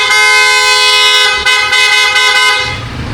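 A loud, sustained PIAA car horn installed on a Senlo X1 Plus blares close by, a bright brassy tone holding for about two and a half seconds before cutting off.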